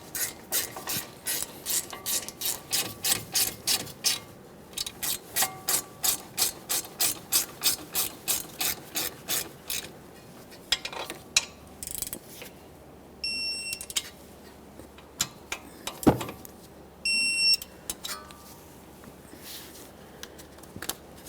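A hand ratchet snugs up the front brake caliper bolts on a 2013-2020 Ford Fusion, clicking in fast, even bursts up close, then pausing and clicking again in shorter runs, with faint clanks and a brief beep-like tone between.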